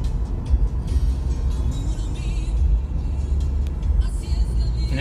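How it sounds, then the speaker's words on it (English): Car on a road, its engine rumble and tire whir rising and easing as it goes by, fairly close and steady, with a few brief higher sounds near the end. "Look, there's a car. It's real."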